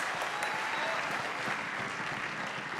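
Steady, dense applause from a concert audience welcoming a guest conductor at a high school ensemble Christmas concert, a continuous even wash of clapping with no voices.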